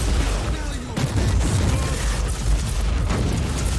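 A grenade blast in the Warhammer 40,000: Inquisitor - Martyr video game, set among dense, continuous battle noise with rumbling booms and scattered bursts of fire, loud and chaotic throughout.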